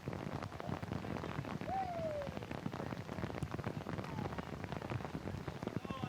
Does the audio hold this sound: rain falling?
yes